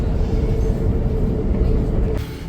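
A passenger train heading into a tunnel: a loud, constant low rumble of wheels and carriage fills the clip, then the tone shifts and dulls near the end as the car enters the enclosed space.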